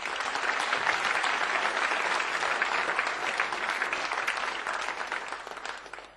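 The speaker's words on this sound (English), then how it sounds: "Give her a big round of applause." A magic show crowd gives a volunteer a big round of applause, loud sustained clapping that stays full for several seconds before dropping off at the close.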